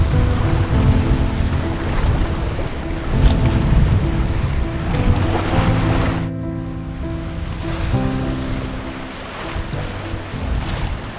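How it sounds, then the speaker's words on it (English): Loud 4 to 5 meter Atlantic waves and 30 to 35 knot gale-force wind around a sailboat at sea, a constant heavy roar of rushing water and wind that briefly dips before surging again. "these are 4 to 5 meter waves in 30 to 35 knots of wind"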